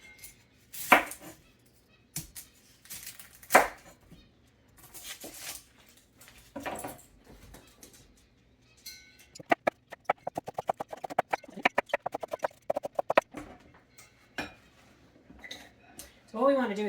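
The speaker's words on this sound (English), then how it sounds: "So now I want to chop up an onion." A knife chops an onion on a cutting board in a home kitchen while pork fried rice is being prepared. A few scattered loud chops give way to a fast, steady run of close, sharp taps, with brief talk in between.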